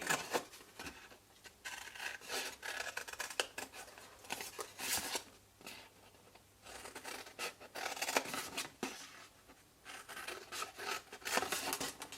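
Scissors snip repeatedly through paper while trimming pieces for a handmade coffee-themed paper box, crisp close cuts coming in irregular bursts with short pauses.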